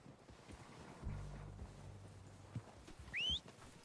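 Horses approach in Red Dead Redemption 2, heard as faint, distant hoof thuds and low rumbling over outdoor wind, with a brief whinny-like cry near the end.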